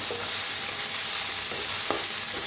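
Tomatoes being stirred into a frying potato and brinjal curry, giving a continuous sizzle with a few soft spatula scrapes and taps, close up, with no voices.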